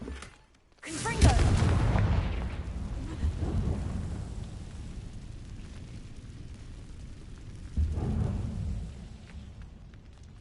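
Confringo fire spell blasts in Hogwarts Legacy: a loud booming explosion with a rumbling, crackling tail, followed by a second weaker blast later, over a steady low game ambience.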